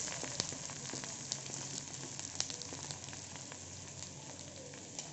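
Flipped uttapam sizzles in ghee on a pan, a soft continuous frying crackle with scattered small pops, fairly quiet and close with no voices over it.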